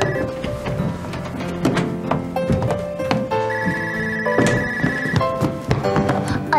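Repeated telephone bell ringing in a home, insistent tones filling the scene with a few thumps underneath and no talk.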